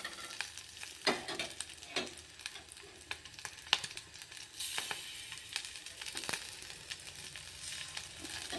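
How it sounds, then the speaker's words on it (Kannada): Green chillies fry in a pan with a continuous crackling sizzle, mixed with frequent stirring scrapes and small pops close by. "ಇವಾಗ ಮೆಣಸಿಕಾಯಿ ಚೆಂದಾಗೆ ಹುರ್ಕೋಣ."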